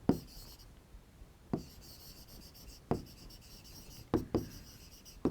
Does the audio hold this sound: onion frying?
no